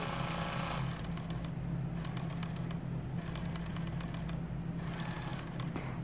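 A sewing machine stitches out a quilt block, a loud close rhythmic whirring chatter of the needle that runs continuously, with the pace shifting through short bursts, and no talking.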